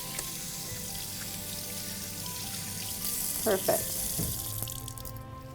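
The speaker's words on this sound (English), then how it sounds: "we're going to start rinsing" Running tap water splashes steadily over hands being rinsed in a dental office, with a brief spoken word partway through.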